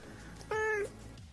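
A cat gives a single clear meow, short and fairly close, against a quiet background.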